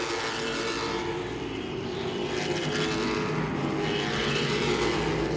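Late model race cars lap Langley Speedway in the closing laps, and engines roar steadily and loudly. The pitch swells and fades as cars pass by, with no talk.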